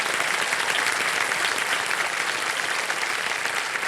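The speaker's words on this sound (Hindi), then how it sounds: "जोरदार तालियां" The studio audience of a TV quiz show claps, a dense, even applause that stays loud from start to finish, with no talking over it.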